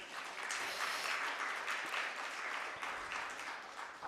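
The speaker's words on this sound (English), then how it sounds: "I would welcome Sir to the dais with a round of applause" An audience at a conference applauds as a speaker is welcomed to the dais, with steady, sustained clapping from a sizable room at moderate distance, swelling slightly in waves with no voices over it.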